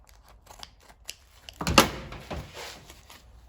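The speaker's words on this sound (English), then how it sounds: "I'm just gonna cut it right here at the edge of the previous fabric" Scissors or a blade cutting through vinyl top fabric at a seam edge on a 1968 Ford Thunderbird, heard as a short, close snipping burst in the middle, with quiet handling rustles around it.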